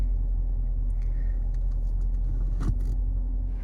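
A Dodge Charger SRT8 SuperBee driving down the road, heard as a steady, continuous low road and engine rumble with a brief faint rattle midway.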